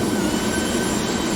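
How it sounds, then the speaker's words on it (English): A simulated single jet engine of a Cirrus jet in the game X-Plane 12 gives a loud, steady whine and roar with a constant droning hum underneath and no talking. "This is a Cirrus jet."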